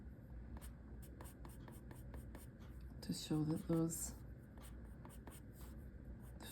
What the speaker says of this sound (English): we want to do that by going to the top of the secondaries and just pulling down with our colored pencil